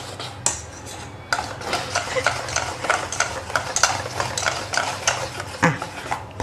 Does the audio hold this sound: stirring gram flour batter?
yes